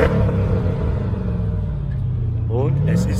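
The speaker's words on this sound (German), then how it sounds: "Gib mal einmal Gas." A Mercedes AMG ML idles with a deep, steady engine rumble close by, rising briefly into a rev near the end, with voices talking over it.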